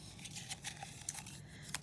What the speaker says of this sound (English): let's go ahead and give our little jar a shake here